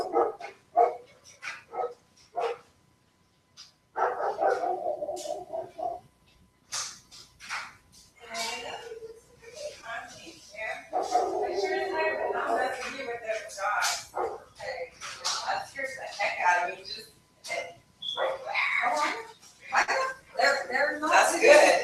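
Dogs bark in short, intermittent bursts indoors as a visitor arrives at the front door, mixed with nearby people talking.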